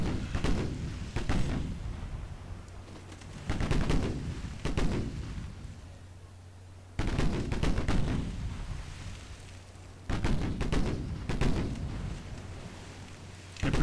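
Naval gunfire in Ultimate Admiral Dreadnoughts, a 1940 British cruiser engagement: four heavy booming salvos spaced a few seconds apart, each with a sharp blast and a long rumbling decay, loud and without talk.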